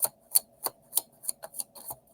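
Tarot cards being shuffled by hand make a quiet, fairly regular series of sharp papery taps and slaps, about eight in two seconds, close up with no voices.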